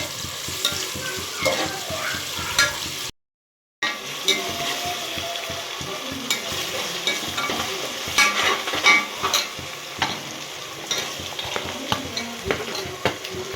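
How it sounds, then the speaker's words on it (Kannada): Onions and green chillies fry in oil in a pressure cooker for egg biryani, a steady close sizzle broken by repeated scraping stirs, with one brief dropout partway through. "ಇವಾಗ ಈರುಳ್ಳಿ ಮತ್ತು ಮೆಣಸಿನ್ಕಾಯಿ ಹಾಕ್ಕೊಂಡು ಸ್ವಲ್ಪ ಹುರ್ಕೊಳ್ಬೇಕು"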